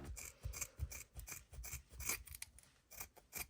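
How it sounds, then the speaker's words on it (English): Scissors snip repeatedly through a doll's long hair, cutting it in half, with a rapid series of close, crisp cuts and rasping blade strokes and no talking. "I'm just gonna cut it in half."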